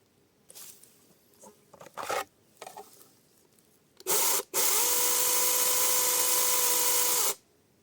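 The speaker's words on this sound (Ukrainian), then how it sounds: "Спробуємо зараз, як ця пила буде різати." A LEADER 20V cordless chainsaw with a 10-inch bar first starts with a few short buzzing bursts. It then runs loud and steady for about three seconds while cutting through willow wood, then stops.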